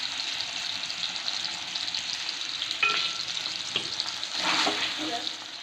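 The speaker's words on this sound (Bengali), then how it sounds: "আলুগুলোকে ছাকা তেলে লাল করে ভেজে নেব।" Potatoes deep-fry in oil with a strong, steady hiss up close. Occasional stirring clatters and brief surges of bubbling sizzle break through.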